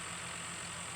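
A farm tractor's engine runs steadily during field bedding and plastic-laying work, a constant low idling drone with a high whine riding on top, no talking.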